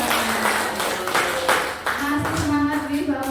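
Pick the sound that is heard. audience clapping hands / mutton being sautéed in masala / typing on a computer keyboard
audience clapping hands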